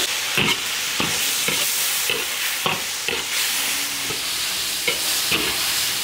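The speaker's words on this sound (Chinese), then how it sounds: "先把牛舌头炒一下， 先把它的水分炒干" Beef tongue stir-fried in an iron wok over a rural wood-fired stove, with a steady sizzle and repeated scraping strokes of the spatula recurring every half second or so, close and loud, no talking.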